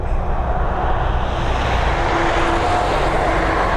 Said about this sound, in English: Our next departure is going to be this Boeing 737 MAX.